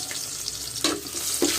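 Garlic sautéing in hot vegetable oil, a close, steady sizzle with brief bursts of crackle as the pieces are stirred.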